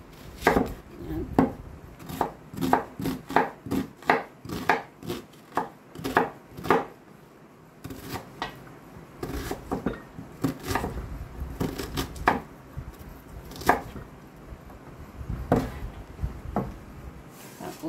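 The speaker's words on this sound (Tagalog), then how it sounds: "hiwain muna natin yung ating sibuyas" A knife chopping onion on a board gives a rapid run of sharp close thuds, then slower irregular cuts and scraping, with no talk.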